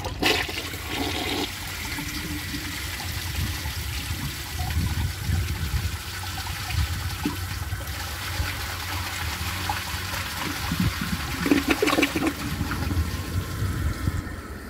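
A 1990 American Standard Cadet toilet flushes a dish towel, with a loud close gush and swirl of water draining, then gurgling and refill trickling, with no voices.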